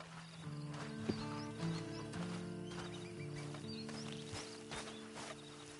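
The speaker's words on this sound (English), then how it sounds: "Then you better get on this horse." A horse in Red Dead Redemption 2 Online whinnies and clops about under a steady hum of background game music, with a sharp knock partway through.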